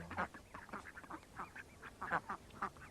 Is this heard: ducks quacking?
yes